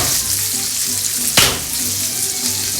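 Chopped peppers hit a hot frying pan for a wrapped-meat dish, giving a steady close sizzle of frying with a brief louder crackling burst partway through as they land in the oil.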